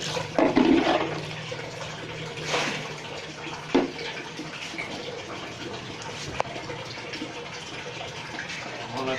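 Cold water runs steadily from a tap while distilling fennel water (arq saunf), a continuous gushing stream with a brief louder surge near the start, heard close up.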